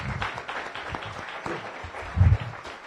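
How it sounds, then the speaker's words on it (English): Applause from a group at a Rotary Club meeting, a steady patter of clapping that swells briefly near the end, with no talking over it. "we applaud you"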